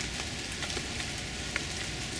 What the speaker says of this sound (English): Nothing like a cool rainy day.